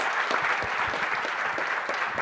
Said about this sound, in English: let's give a round of applause to these three great economic thinkers